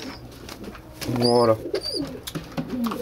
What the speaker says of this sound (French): Donc je sors mes pigeons comme tous les matins.